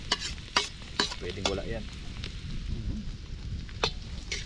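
Onions sizzling in a hot pan as a spatula stirs and scrapes them, with sharp metal clicks at irregular moments over a constant frying hiss and a brief spoken remark.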